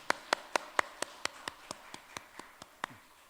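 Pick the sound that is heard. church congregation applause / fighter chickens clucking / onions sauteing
church congregation applause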